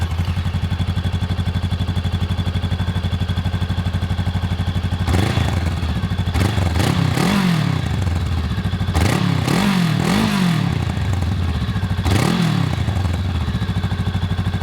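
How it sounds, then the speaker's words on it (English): A 2024 Honda Rebel 500 motorcycle engine idles in a steady close rumble, then gets several sharp throttle blips that rev up and fall back in short bursts. "this is how the 2024 Honda Rebel 500 sounds."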